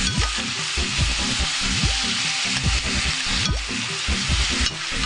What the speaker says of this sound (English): let it saute until the meat changes its color